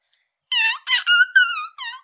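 A person imitates a cat in a series of high, squeaky meows, five short mewing bursts in a row, close and clear against silence.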